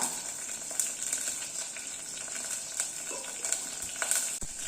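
Fenugreek seeds frying in hot oil for a fish curry, a steady bright sizzle with small crackles and pops scattered through, close by and moderately loud, no voices.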